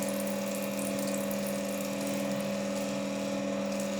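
Water runs steadily from a tap while something is washed, a continuous close flow with a droning hum underneath, unbroken and without talk.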